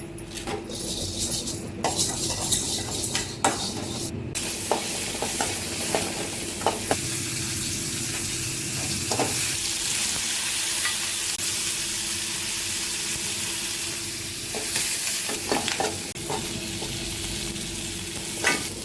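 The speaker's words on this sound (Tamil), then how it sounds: "கடலப்பருப்பும் உளுத்தம் பருப்பும் போட்டு வறுத்து எடுத்துக்கலாம்" Chana dal and urad dal dry-roasting in a pan, a dense steady sizzle with scattered scrapes and utensil taps as the lentils are stirred, close and continuous with no talking.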